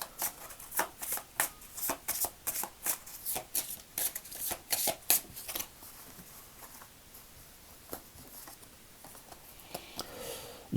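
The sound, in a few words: shuffling Gaia oracle cards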